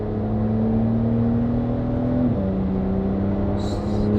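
A Porsche 992 Carrera 4S with a titanium exhaust and free-flow downpipes is held at mid-range revs around 4,000 rpm, giving a smooth, steady, loud drone that dips slightly in pitch partway through, with no voices.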